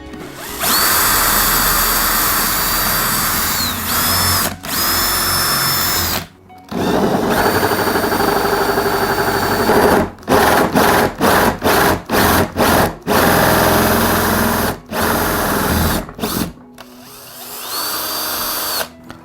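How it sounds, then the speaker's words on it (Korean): Electric drill fitted with a hole-cutting attachment bores holes, a loud continuous whine broken by several stops and short restarting bursts, close and alone with no talk. "구멍을 뚫 수 있는 장치를 전동 드릴에 연결하겠습니다"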